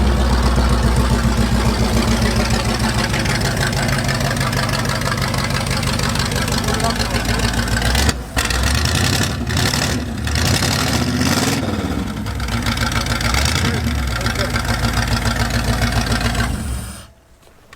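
A 1915 Ford T-bucket with a 389 GTO engine and three deuces idles loudly and steadily nearby, with a few brief blips of revving midway before the engine cuts off near the end.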